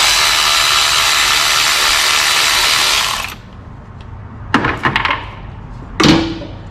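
A socket wrench loosens the hydraulic timing belt tensioner bolts on a Toyota Hilux 1KD engine. A loud continuous mechanical whir fills the first three seconds, then short ratcheting clicks come in two bursts close by.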